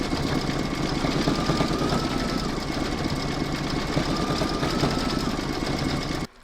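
An embroidery machine stitches over the join of a crazy patch, a rapid, even mechanical chatter that runs steadily, then stops at the end.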